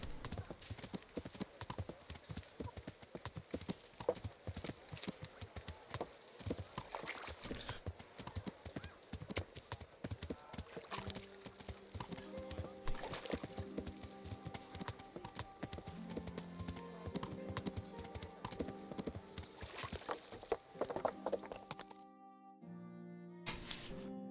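Horse hooves clip-clop steadily throughout a medieval ride in Kingdom Come: Deliverance, a continuous rhythmic trot with an occasional whinny, mixed with game music and ambience before cutting to near silence at the end.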